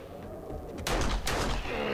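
Gunshots in the survival video game 7 Days to Die: two loud, close blasts about half a second apart, each standing out sharply over a steady low background rumble.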